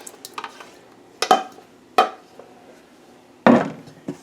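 A wooden spoon scrapes and pushes through lasagna sauce and raw noodles in a crock pot, making three or four separate wet, thick stirring strokes with quiet pauses between them.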